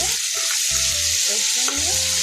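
A cauliflower and pea curry is stirred in a frying pan, with a continuous loud sizzle of hot oil and a few short scraping strokes, no voices.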